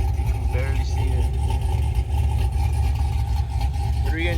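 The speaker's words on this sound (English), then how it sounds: "Running Black Widow exhaust." A vehicle engine with a Black Widow exhaust, a 3-inch inlet and 3-inch outlet, runs at a steady idle with a deep, continuous low rumble. The sound is close and constant, with faint background sounds over it.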